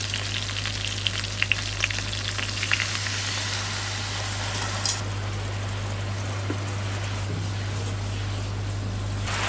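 Sesame chicken sauce sizzles and bubbles in a hot pan, a steady close frying hiss with small crackles and stirring scrapes over a constant low electrical hum.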